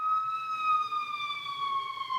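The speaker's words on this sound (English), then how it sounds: "Sirens are going off like crazy." A wailing emergency siren sweeps slowly downward in pitch, steady and fairly loud, with a faint background rumble.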